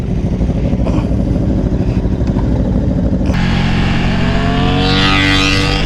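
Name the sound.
Aprilia Tuono V4 motorcycle revving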